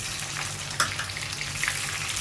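Onions frying in oil in a pan on a gas stove give a soft, steady crackling sizzle with faint pops, moderately near and quiet, with no talk over it.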